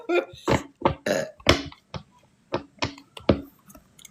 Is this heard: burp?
yes